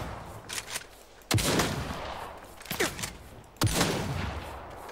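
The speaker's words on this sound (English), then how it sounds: "What is this shotgun?" Two heavy shotgun blasts in the video game Saints Row (2022), each a sharp loud boom with a lingering tail, separated by a couple of seconds and mixed with fainter game noise.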